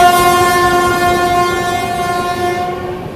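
The Lucknow–New Delhi Tejas Express overtakes the Gomti Express and gives a long, steady, loud horn blast over the rumble and clatter of the rails. The horn holds nearly the whole time and fades slightly at the end.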